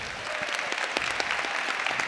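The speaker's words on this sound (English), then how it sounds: "Everybody give them a big round of applause." An audience at a health and nutrition conference claps continuously, a dense steady patter of many hands applauding nearby.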